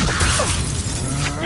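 A fire spell cast in Hogwarts Legacy bursts with a crackling, shattering blast and whoosh, loud and close, layered over dense game sound effects and music.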